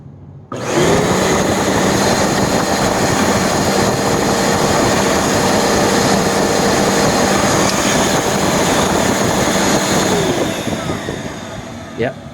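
A Bissell Powerforce Turbo upright vacuum with a 12 amp motor starts up and runs at a loud, steady whine for about eleven seconds, then begins to wind down near the end.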